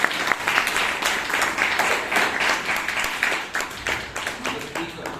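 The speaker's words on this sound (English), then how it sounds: "Please give her a big round of applause." An audience at a Bangalore Toastmasters meeting applauding a speaker, with dense, steady clapping from many hands that fills the room and tapers slightly toward the end.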